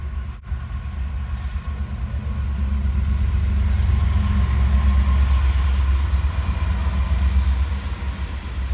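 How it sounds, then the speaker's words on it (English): A train rolls past steadily, a loud low rumble that swells toward the middle and eases off at the end, heard close up with no talking and no horn. "there's a train coming."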